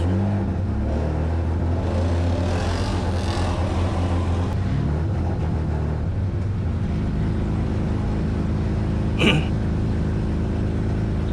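A drift car's engine drones and revs steadily on a track at a grassroots drifting event, loud and continuous throughout with a brief sharp sound near the end.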